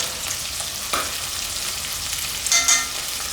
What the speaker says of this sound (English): Should fry this for about 3 to 5 minutes, depending on the size of your shrimp. Just give it a good flip.